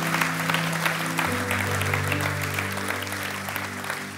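A church congregation applauding loudly after a French sermon's call to say Amen, a dense, sustained clatter of many hands over a low held sustained tone, slowly easing off across four seconds.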